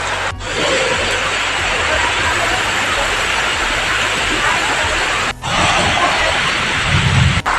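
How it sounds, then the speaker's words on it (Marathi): Heavy monsoon rain pours steadily in Konkan in a dense, continuous roar, close and loud, with brief dips near the start and end. "पाऊस लागता आणि मस्त वाटता"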